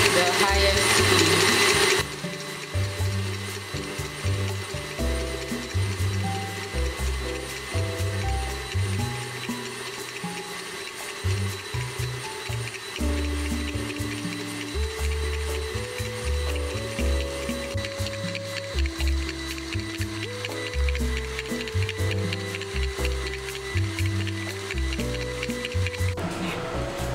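Electric mixer whipping stable whipped cream frosting at its highest speed, a loud continuous motor whir with shifting tones as the beaters churn, running steadily throughout with a brief louder burst at the start.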